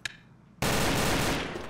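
Automatic weapon fire from the online shooter Combat Arms bursts in suddenly and continues as a loud, dense rattle of rapid shots after a brief quiet moment.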